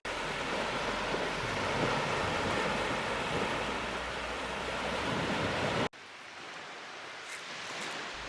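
Surf washing steadily onto an empty beach in Ireland, broad and continuous with wind noise, cutting abruptly to a quieter, thinner wash of water for the last couple of seconds.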